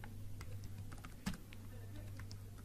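Keystrokes on a computer keyboard typing a command into a command prompt, a few quiet, scattered clicks with one slightly louder tap, heard close over a steady low background hum.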